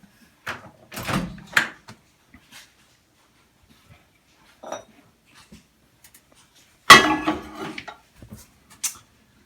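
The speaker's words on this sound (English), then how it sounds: "putting the bowl into the microwave" A bowl holding soap goes into a microwave amid scattered knocks and clatters: a door opening, the bowl set down, and a sharp louder clunk as the microwave door shuts, each close and separated by quiet.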